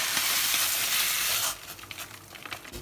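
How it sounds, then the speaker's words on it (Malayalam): Rice ada pieces for Kerala adapradhaman dropped into a large pot of about two litres of boiling water and stirred, a steady bubbling hiss for a second and a half giving way to softer scattered stirring scrapes and clinks. "ഈ അട ഇട്ട ശേഷം കട്ട പിടിക്കാതിരിക്കാൻ ഒന്ന് ഇളക്കി കൊടുക്കണം"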